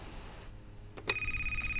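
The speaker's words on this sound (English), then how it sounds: "pass by the phone, and it should ring" A telephone rings in the video game Quintus and the Absent Truth, a single short ring with bright tonal peals, starting after a quiet moment with a faint second burst at the end.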